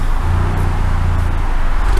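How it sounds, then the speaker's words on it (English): Road traffic on the nearby A470 gives a constant low rumble of passing cars, loud and steady throughout, with no talking. "If it's noisy is because the A470 is just down there, so we get a lot of traffic"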